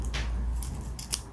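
Scissors snip fabric for Korean jogakbo patchwork, a few quick soft cuts close by in a quiet room.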